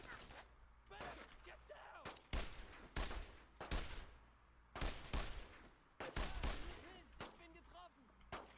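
Machine-gun fire in a war video game, irregular rattling bursts and distant shots mixed with explosions and chatter, fairly faint and busy, with a voice talking at times.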